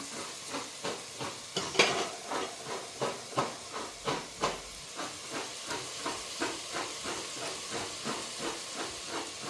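Chopped onion frying in a pan with cinnamon and bay leaf for vegetable pulao gives a steady hiss and sizzle, broken by regular scraping stirs of a spoon, close and fairly quiet.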